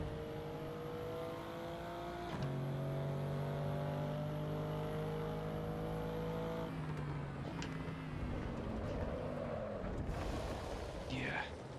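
A race car in the sim racing game Assetto Corsa Evo brakes hard into a corner, with a loud, steady engine tone dropping in pitch as it slows and tyre noise following, under a person talking.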